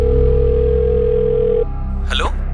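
A phone line on a call to a hotel gives a steady electronic tone that cuts off after about a second and a half, followed by a brief warbling electronic sound, loud and close.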